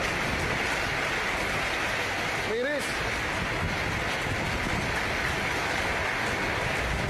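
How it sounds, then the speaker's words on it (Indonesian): A hailstorm with heavy rain and strong wind pours down on villages on the slopes of Mount Muria, east of Pati, Central Java. A dense, steady pattering roar fills the whole stretch, and a voice briefly cuts in. "Fenomena hujan es terjadi di lereng pegunungan Muria sebelah timur Pati, Jawa Tengah."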